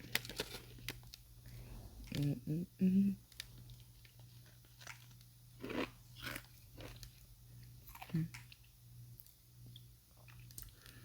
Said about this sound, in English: let's crunch on this humidifier top before it melts.